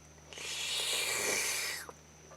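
A voice imitates the squish of a squeezed sponge with one airy, hissing whoosh lasting a little over a second, fairly quiet and heard alone with no talking.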